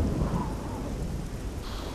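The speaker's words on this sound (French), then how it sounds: "mais il continue de pleuvoir" Steady rain with thunder rumbling low in the game Oblivion, a continuous close wash of rainfall under a deep roll of thunder, with no voices.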